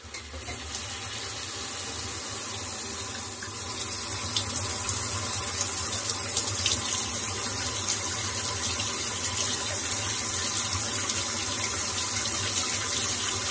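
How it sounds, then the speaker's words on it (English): Shower water running steadily in a home shower stall, a continuous broadband hiss that grows slightly louder after a few seconds and then holds constant, with no talking. "it's ready for the shower to start and get activated"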